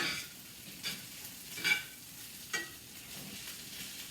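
Rice being fried in a pan, a soft steady sizzle with several brief scraping stirs of the spatula, close but fairly quiet, no talking.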